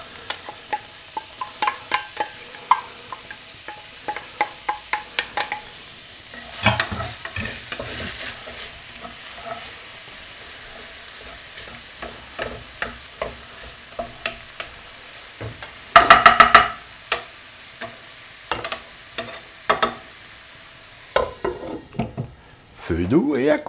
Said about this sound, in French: Et faites bien transpirer les oignons.